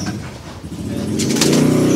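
Losdor racing pigeons coo continuously nearby, low throaty rolling notes over a noisy background with some rustling and flapping.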